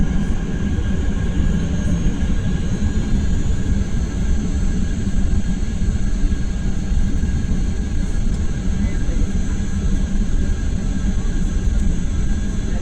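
Airliner engines roaring during takeoff, a continuous loud broadband rumble heard from inside the cabin, steady throughout with faint talk beneath.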